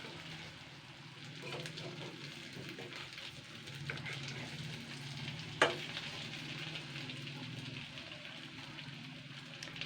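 Potato and egg fritters frying in oil, a continuous crackling sizzle close by with faint stirring and one sharp utensil clink midway, fairly quiet and steady.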